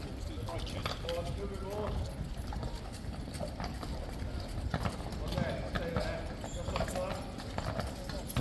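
Hooves of King's Guard horses clip-clop at close range while being prepared for the Elizabeth Cup, a steady uneven clatter heard beneath nearby talking voices.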